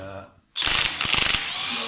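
A ratchet fitted with a 7/8 socket undoes the clutch nut on a Triumph Trident T150V motorcycle, giving a loud, close burst of rapid clicking after a brief silence, with the clicks continuing into a sustained mechanical whirr.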